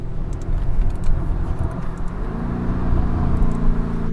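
A 650 HP Lamborghini Urus V8 runs under heavy throttle from inside the cabin, a loud, deep, steady engine drone that builds slightly in pitch toward the end.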